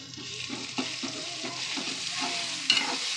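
Onions, ginger and chopped chili fry in a pan, giving a steady close sizzle. Repeated stirring scrapes and a clink of a utensil cut through it.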